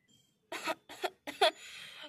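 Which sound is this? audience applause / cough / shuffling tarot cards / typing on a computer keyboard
cough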